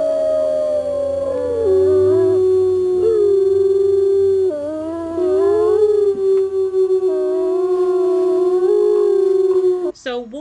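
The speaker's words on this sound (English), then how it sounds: "So wolves howl to communicate with each other." Wolves give long, wavering howls that rise and fall and overlap across several voices, loud and sustained, with a brief rustle at the end.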